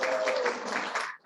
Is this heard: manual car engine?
no